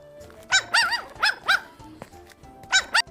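A person imitates a dog barking, giving about six short, yappy barks in two quick bursts, close and clear with no other sound.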